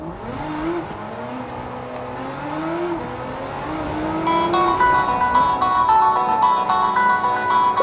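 A Nissan GR35 GT-R race car in Gran Turismo 7 drones steadily with a smooth engine hum and whirring tone, climbing in pitch and growing a little louder as it picks up speed.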